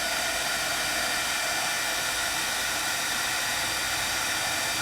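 A heat tool blows a loud, steady, hair-dryer-like roar of rushing air while melting super fine polished gold embossing powder, constant and close, with no talking.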